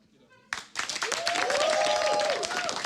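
An audience at a StarCraft 2 WCS Europe 2014 event breaks into loud, sustained applause and cheering after a brief quiet start, with a whooping voice rising over the clapping.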